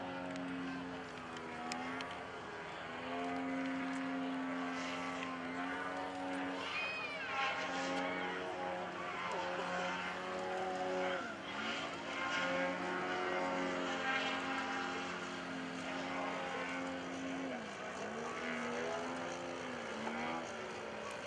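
Radio-controlled model aircraft at an airshow flying an inverted flat spin, its propeller engine droning steadily with shifting pitch for a long stretch, while a commentator talks over it.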